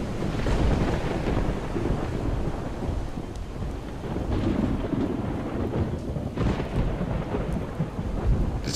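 Thunderstorm in the game Project Zomboid: steady heavy rain and wind with rolling thunder and sharp lightning cracks, loud and continuous throughout, no talking.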